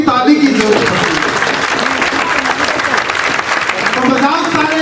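An audience at a poetry recitation show breaks into loud, sustained applause, dense clapping that fills the space from start to finish with faint crowd murmur mixed in.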